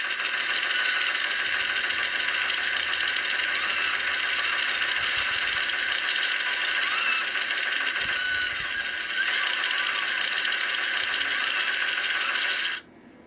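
Electronic sound effect from a Hot Toys ED-209 robot figure: a steady, bright mechanical whirring drone with faint clicks, played alone at moderate volume before cutting off abruptly near the end.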